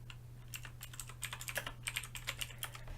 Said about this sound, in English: Sorry about the keyboard sound.